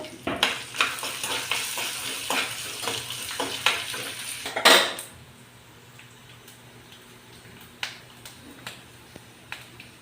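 Ingredients for stuffed brinjal curry frying and being stirred in a pan, sharp spattering crackles and clinks for the first few seconds, then a quiet low sizzle with occasional pops.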